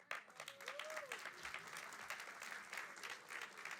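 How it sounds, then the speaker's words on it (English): Impromptu audience applause at a college celebration event, a steady wash of many hands clapping, fairly quiet and distant, with a brief voice or whistle rising early on. "I'll take impromptu applause all the time."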